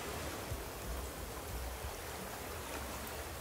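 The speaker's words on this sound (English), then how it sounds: "Let me sleep so the rain goes away." Steady rain falls in the survival video game Raft, a constant close hiss of dense rainfall with a low rumble underneath and no pauses.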